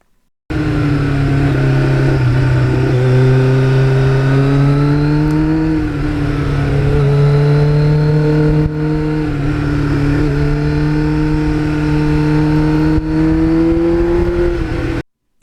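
A green 35-year-old Kawasaki Ninja motorcycle revs loudly and up close, its engine note climbing and dropping as it shifts up through the gears in a continuous run.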